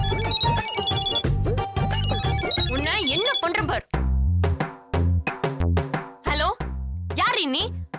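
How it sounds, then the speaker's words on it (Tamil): A phone ringtone plays over a tonal jingle, followed by a melodic ring pattern repeating in bursts, fairly loud and close, with people talking over part of it. "இல்ல, ரிங் சத்தம் கேட்ட மாதிரி இருந்துச்சு"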